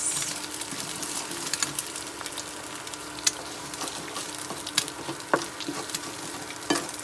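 Corned beef and egg frying in a pan, a steady sizzle broken by clicks and scrapes of a utensil stirring and mixing the food, close and fairly quiet with no talking.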